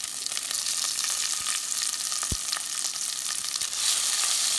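Chopped carrot, green chilies and capsicum frying in hot oil for semiya upma, a loud, even crackling sizzle with a few sharp taps of a spoon on the pan.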